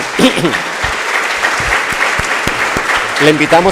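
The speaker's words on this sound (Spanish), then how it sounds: "Les pido por favor que le brindemos un fuerte aplauso" An audience breaks into steady applause, a dense wash of clapping that carries on throughout, with brief voices rising near the end.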